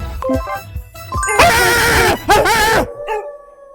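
A voice imitates a dog, yelping and barking in a fast run of harsh, loud barks with brief pauses, close to the microphone.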